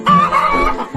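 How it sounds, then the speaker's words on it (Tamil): Native country chicken clucking close by, a run of short harmonic clucks and calls filling the second with a brief dip near the end. "இங்க பாரு, கோழி. அம்மடிப்பட்ட சாதா கோழி இல்ல, நாட்டு கோழி."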